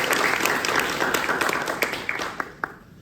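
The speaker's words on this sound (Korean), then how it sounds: "큰 박수로 맞이해 주시기 바랍니다." An audience at a construction policy forum applauds to welcome a speaker, a dense close burst of clapping that thins out toward the end.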